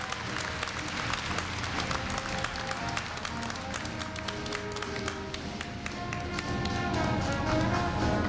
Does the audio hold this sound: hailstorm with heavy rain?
no